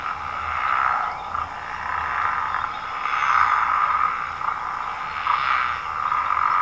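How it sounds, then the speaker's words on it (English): A chorus of pickerel frogs calls continuously, overlapping snarling croaks that swell and fade in waves, fairly close and loud with no voices. "And indeed, it's a pickerel frog."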